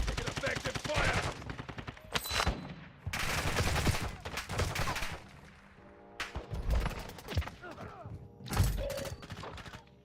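Bursts of automatic gunfire and rifle shots ring out in the video game Call of Duty Modern Warfare II, loud rapid volleys in repeated clusters with thuds and mechanical clatter, while game voice lines speak between them.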